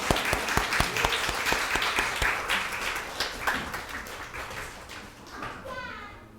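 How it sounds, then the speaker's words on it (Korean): A church congregation claps during a Sunday worship service, a lively burst of many hands close by with some children's voices mixed in, the clapping thinning out and fading toward the end. "인사하고 들어가실 때 우리 박수로"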